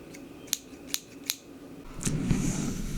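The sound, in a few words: scissors snipping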